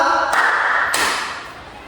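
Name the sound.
group clapping twice on teacher's cue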